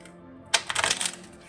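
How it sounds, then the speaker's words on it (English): A tarot deck is riffled once up close, a short crisp flurry of rapid card flicks that fades quickly. "as I'm shuffling these cards"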